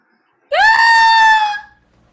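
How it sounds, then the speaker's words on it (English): A single sustained high-pitched cry of women, used as a stage sound effect in a Macbeth performance, rising sharply, holding loud and close for about a second, then fading out. "It is the cry of women, my good lord."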